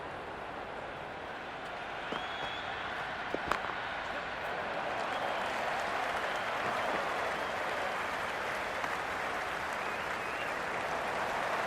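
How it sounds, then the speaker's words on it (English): Crowd at a cricket match in the Cricket 26 video game, a steady wash of applause and cheering from a large stadium that runs throughout without a break, with a few faint sharper knocks near the start. "There's an almost tangible fervour throughout the crowd at the moment."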